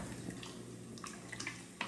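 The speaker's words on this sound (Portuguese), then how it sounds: "vou colocar até um pouco mais de água" Water is poured into a pot of feijoada on an alcohol-fueled stove, a faint steady splash and trickle with small bubbling drips over low background hum.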